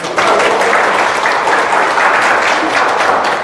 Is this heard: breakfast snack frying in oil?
no